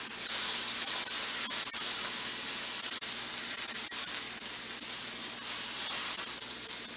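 Pork loin sears in a hot pan with a constant, loud broadband sizzle and hiss that holds steady throughout with small crackling pops.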